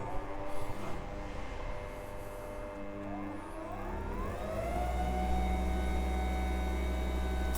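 A new Parkside PTSG 140 C2 disc sander from Lidl, fitted with a hook-and-loop pad, runs at its lowest speed: a quiet, steady motor hum with a faint whine that climbs in pitch as it spins up and then holds.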